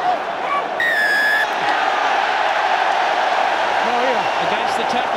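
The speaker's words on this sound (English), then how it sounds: "The crowd is going berserk here" A roaring stadium crowd at a rugby match between Japan and South Africa, sustained loud cheering and shouting throughout, with whistles and a commentator's voice on top.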